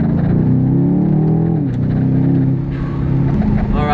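A 2020 BMW X6M Competition's engine drones loud and close through downshifts in 2nd gear, pitch sliding down and back up in steady harmonic bands with a brief dip midway.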